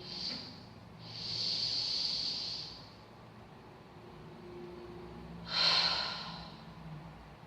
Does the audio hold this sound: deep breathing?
yes